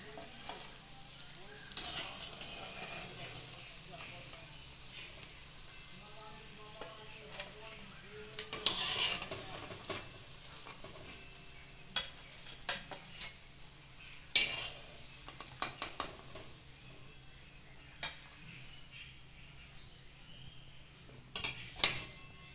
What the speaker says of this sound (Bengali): বাকিগুলো আমি একই রকম ভাবে ভেজে নেব।